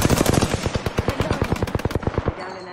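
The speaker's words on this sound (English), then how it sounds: "Getting shot at." Rapid automatic gunfire in Apex Legends, a dense burst of about twenty evenly spaced loud shots that stops abruptly near the end, leaving a faint hum.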